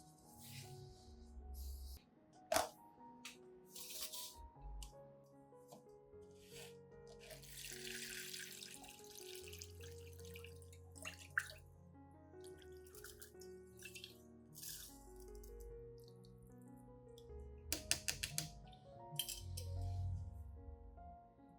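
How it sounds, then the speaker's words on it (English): Rice water strained away from soaked rice, poured and trickling into a sink or container with running-water splashes, light glass clinks and drips throughout, no talking. "strain out the rice, keeping only the rice water"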